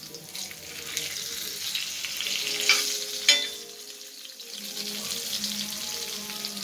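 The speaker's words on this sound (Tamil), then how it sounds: "சீலா மீன் ரோஸ்ட்டு முக்கால்வாசி முடிஞ்சிருச்சு" Barracuda fish pieces roast in coconut oil in a pan, giving a steady close sizzle and crackle with a couple of sharp utensil clinks midway, no voices.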